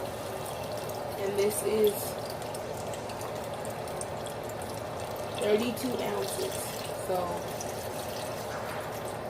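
Liquid, 32 ounces, pours into a pot for keto ramen, a soft, uneven splashing and gurgling under a person talking, with brief louder glugs midway.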